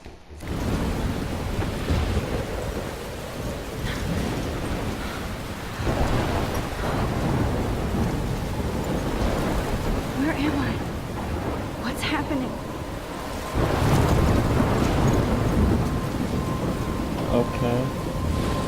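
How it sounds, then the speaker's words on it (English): A thunderstorm in the video game Life is Strange: heavy rain hisses continuously while low thunder rumbles and rolls in several surges, loud and close, with a voice speaking at points. "I'm trapped in a storm?"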